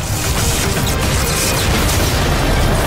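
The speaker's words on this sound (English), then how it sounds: "Right now we're using the railgun, one of the many new weapons in the game." Railgun fire in the video game Just Cause 4, a dense, loud and continuous roar of booming blasts and crashing that fills the whole clip with no pause.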